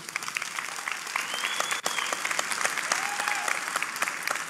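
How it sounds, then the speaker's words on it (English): Audience applause at a corporate white paper presentation, a steady wash of many hands clapping throughout, moderately loud and even, with a brief dip near the middle. "One applause."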